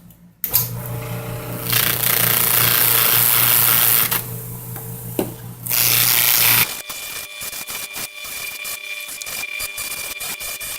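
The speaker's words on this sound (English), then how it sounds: "What do you say we give a try to buffing this?" A power buffer whirs loudly and steadily against a small-engine oil filter, stopping briefly mid-way before spinning up again, then giving way to quieter scraping and rubbing handling noises at close range.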